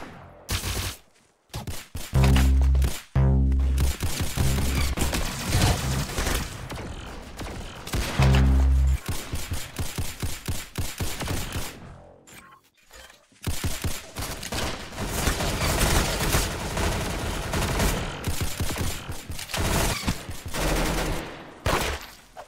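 Video game gunfire roars in dense, loud bursts of rapid automatic shooting, broken by a couple of short pauses before the fusillade resumes at full force, with no talking.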